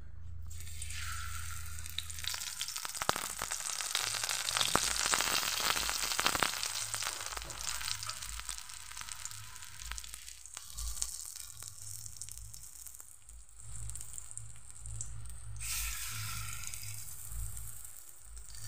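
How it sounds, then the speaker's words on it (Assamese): Pakoras dropped one at a time into hot oil fry with a steady, loud sizzle that swells as each piece goes in, with bursts of crackling and spattering and a few dull clinks, then settles into a continuous bubbling hiss. "আনফালে তেলখিনি গৰম হৈয়ে আছে। এতিয়া মই ইয়াতে এটা এটাকৈ পকৰাখিনি দি যাম।"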